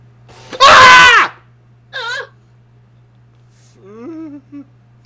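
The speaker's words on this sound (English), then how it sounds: "be prepared for the screamer that's gonna happen" A jumpscare screamer from the video game Five Nights at Freddy's 4: one loud, harsh distorted shriek, then a shorter wail and a fainter moaning cry over a low steady hum.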